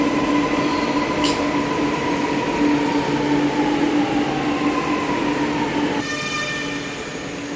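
A Chennai metro train rumbles loudly at a station, its steady rolling roar carrying a long tonal whine, then shifting near the end as a brief high chime sounds over the dropping noise.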